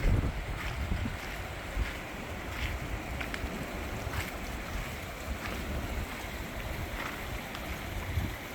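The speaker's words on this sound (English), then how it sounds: "Flowing pretty good, and there's fish in there." Tuttle Creek, carrying plenty of water beside a campsite on the Ashram Trail, rushes steadily as a continuous broadband wash with light wind buffeting the microphone and no voices.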